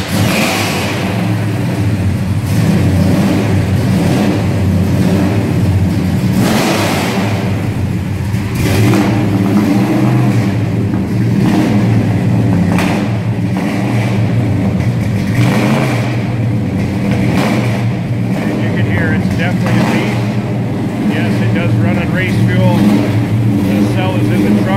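Engine of a 1969 Plymouth Road Runner running loud and close, rumbling steadily with repeated revs rising and falling throughout, with no pause or quiet stretch.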